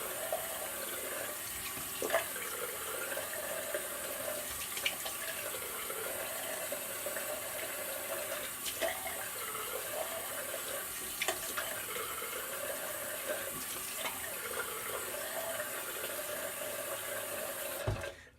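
Tap water running steadily into a sink during a shaving routine, a continuous close splashing hiss with a few brief knocks, ending abruptly.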